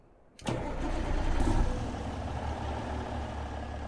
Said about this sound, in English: I love the way this engine mod sounds